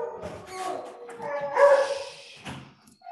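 Dogs barking and yipping in short irregular bursts at moderate volume, with one louder outburst partway through and a few whimper-like notes, fairly close to the listener.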